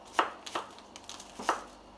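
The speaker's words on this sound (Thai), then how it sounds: "เราจะมาเริ่ม หั่นหอมก่อน" Knife chopping green onions on a board for a Thai-made tonkatsu rice bowl: a few sharp, crisp cuts at an uneven pace, close and fairly quiet, with no talking.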